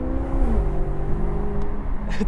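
A Maserati GranTurismo Convertible sports car engine hums and revs steadily, its tone rising and shifting, loud and close with no talking.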